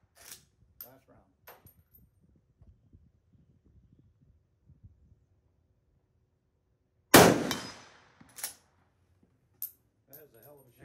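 A Swiss K11 rifle fires at a steel target on an outdoor range: one loud, sharp crack with a trailing ring and a short echo, followed by a few fainter knocks, with quiet background rumble before it.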